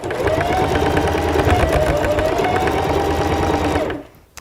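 A sewing machine stitching through 12 layers of denim at a seam, a loud, fast, steady mechanical whir with rapid needle clatter that runs without a break and then stops abruptly.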